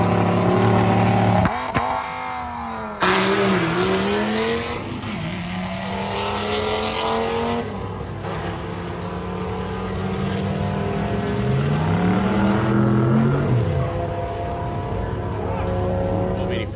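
A Dodge Ram SRT10 truck at a Hot Rod Drag Week drag strip roars through a run, engine note climbing and dropping through gear changes, loud and sustained over a faint crowd and track noise.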